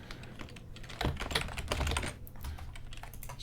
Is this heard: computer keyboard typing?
yes